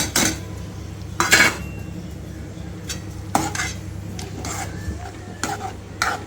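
Fried paneer tipped into gravy in a metal pot, with several sharp clanks of spoon against pot and a soft stirring scrape between them, close and fairly loud over a steady low hum.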